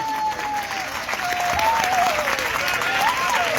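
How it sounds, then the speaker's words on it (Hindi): A poetry recital audience at Punjab University breaks into sustained applause, a dense wash of clapping that swells and holds steady, while a voice carries on faintly over it. "एक बार अपने होने का सबूत तालियों से दीजिए"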